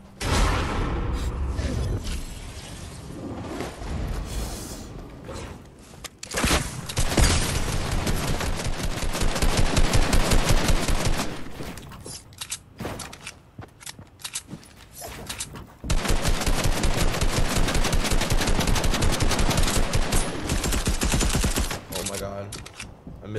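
Gunfire in the video game Fortnite, with repeated loud blasts and bursts of rapid shots in clusters that rise and fall over busy game noise.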